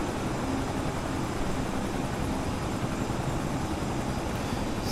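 Steady rotor drone and engine whine of a Bell 222B helicopter by Cowan Simulation in Microsoft Flight Simulator, heard continuously and fairly loud without pause during a landing.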